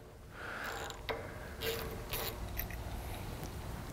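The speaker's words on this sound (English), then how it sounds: "This is a stud removal socket." A stud removal socket grinds and ratchets against an old wheel stud on an Acura TL, a close, quiet metallic scraping and clicking run of a few seconds with no talking.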